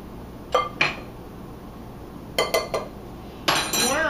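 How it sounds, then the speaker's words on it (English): A spoon clinks against a bowl while ingredients are stirred into flour for Italian butter cookies, in three short bursts of close, bright taps separated by quiet pauses. "I'm just going to stir that into the flour."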